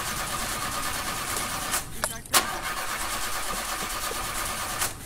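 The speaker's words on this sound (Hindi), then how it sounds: "यार गाड़ी स्टार्ट नहीं हो रही, क्या करे?" A car's engine is cranked over but fails to catch, a steady mechanical churn with a couple of sharp clicks and bursts partway through, fairly loud and close.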